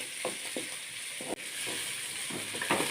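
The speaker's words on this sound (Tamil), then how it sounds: "வெங்காயம் நல்லா வதங்கணும் காய்ஸ்," Onions sauté in a pan for hotel-style chicken noodles, giving off a steady, fairly quiet sizzling hiss with a few soft scrapes and stirring knocks scattered through it, and no voices.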